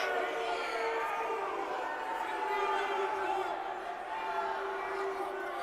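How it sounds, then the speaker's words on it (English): Crowd at a women's college basketball game, Oregon Tech versus Corban, murmurs and calls out in displeasure at a disputed referee call, a steady moderate roar under a commentator's voice. "Crowd doesn't like that call."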